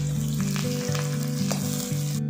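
Garlic and onion fry in hot oil in a pan as the base for chicken, a loud continuous sizzle with a low steady hum beneath and a few stirring knocks, no voices.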